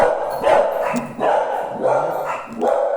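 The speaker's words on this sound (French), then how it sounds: "Ah bah je savais que ça allait aboyer." A dog barks indoors, four loud sharp barks spaced roughly evenly over a few seconds, close by with nothing else competing.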